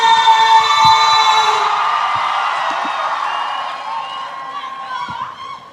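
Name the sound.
audience applause and cheering at Junior Monarch finals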